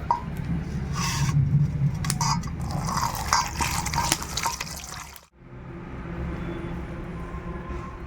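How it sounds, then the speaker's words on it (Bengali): Cut eggplants being washed by hand in a bowl of water, a steady close splashing and sloshing for about five seconds before it drops to a quieter running-water hiss. "এখন আমি ভালো করে ধুয়ে নেব বেগুনগুলোকে"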